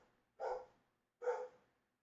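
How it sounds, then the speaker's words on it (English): A dog barks twice in the background, spaced about a second apart, fairly faint and distant, with quiet gaps between and no talking. "I got a dog barking in the background."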